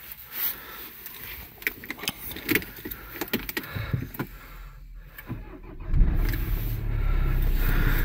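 Clicks and rustling, then the 2.0 diesel engine of a 2008 Peugeot 308 automatic cranks and catches, settling into a low, steady idle rumble.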